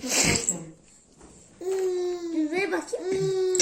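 Young child crying in a home kitchen, a wailing cry rising after a short pause and holding for about two seconds, mixed with babbling and another voice nearby.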